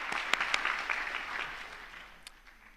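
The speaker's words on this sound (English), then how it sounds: "give him a round of applause" Audience applause in an assembly hall during a General Assembly session: a dense wash of clapping with a few sharper claps near the start, gradually thinning and fading over a few seconds.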